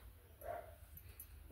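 A single faint, short dog bark rises briefly over a quiet background hum.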